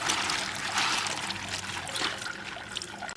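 Tap water runs steadily in a home kitchen as vegetables are rinsed for a simple egg-noodle lunch, a close, continuous splashing trickle with no talk over it.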